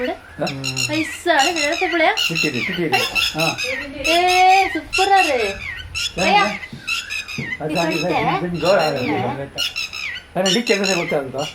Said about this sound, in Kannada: ಹಕ್ಕಿಗಳು ಅಲ್ಲೆಲ್ಲೇ ಓಡಾಡ್ತಾ ಇವೆ